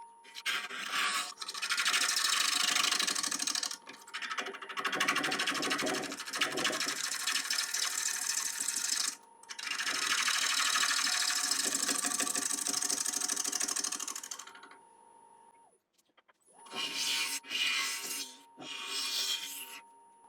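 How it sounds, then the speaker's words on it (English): A 3/8 inch ball gouge cutting Irish walnut spinning on a wood lathe makes long, steady, loud scraping and whirring passes, broken by short pauses, with a constant machine hum underneath and no talk. "I'll just start off with a 3/8 inch ball gouge."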